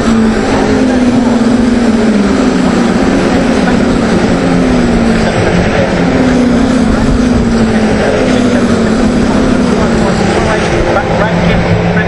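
Caterham Seven 310R race cars circling Castle Combe race circuit, engines droning loud and steady through a long continuous pass with a rising and falling pitch under race commentary.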